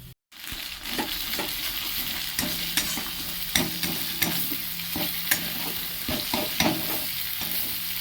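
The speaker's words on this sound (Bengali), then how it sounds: "মশলাটা ভালোভাবে কষা হয়ে গেছে" Turmeric, cumin and coriander powder masala frying in a pan, a steady sizzle broken by repeated scraping strokes of a spatula, close and fairly loud with no talk.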